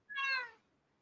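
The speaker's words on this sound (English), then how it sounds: "Look. It's another kitty cat." A single short, clear kitten meow, close and fairly loud, rising quickly and fading within about half a second, with no other sounds around it.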